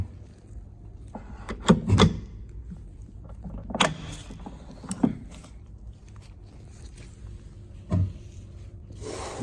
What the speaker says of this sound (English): Remove the excess powder and close the top cover.